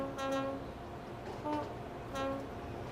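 A train running in Transport Fever 2, its horn sounding in three repeated tonal blasts over a continuous rolling rumble of the moving cars, fairly close and steady, with no one talking.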